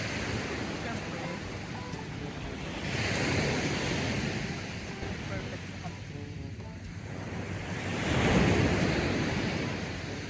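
Ocean waves wash onto a seashore at sunset in a steady broad rush, swelling louder around the middle and again near the end, with wind noise on the microphone.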